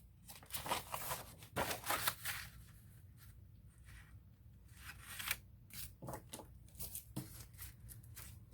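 Scissors trimming a paper journal page, several quiet crisp snips and rustles grouped at the start and scattered later, close up with no voices.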